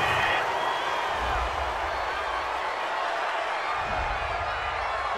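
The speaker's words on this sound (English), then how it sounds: "This home crowd, they're happy with that call" A home stadium crowd in Madden NFL 20 roars in a broad, steady wash of cheering after a pass interference call, with a low thump partway through.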